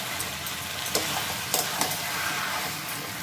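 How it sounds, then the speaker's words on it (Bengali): Cabbage and pre-fried potatoes being stir-fried with fish head in a pan: a steady, loud sizzle and hiss with a few sharp clinks of a utensil against the pan. "এবার আমি ভেজে রাখা আলু আর বাঁধাকপি দিয়ে দিলাম। এটা দিয়ে ভালো করে এবার কষবো।"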